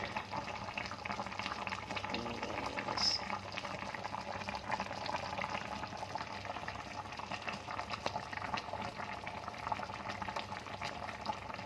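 A pot of pork sinigang soup bubbling at a steady rolling boil, continuous crackling and gurgling close by, with no voices.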